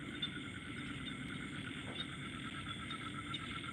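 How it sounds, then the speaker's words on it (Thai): Faint night chorus from the rice fields around a rural house, with steady high chirping and repeated calls droning together in the distance, no voices. "เสียงกบเสียงเขียดออบแอบออบแอบออบแอบออบแอบออบแอบ"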